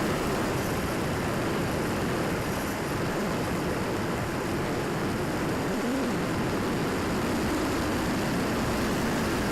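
An FPV Ranger RC plane's motor drones at full throttle, a loud continuous whine mixed with rushing wind noise that stays steady throughout.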